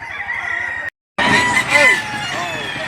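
Chickens and roosters at a busy poultry market in Padre Garcia, Batangas, cluck and crow loudly and close by, while people talk over the noise. A brief silent break interrupts the sound.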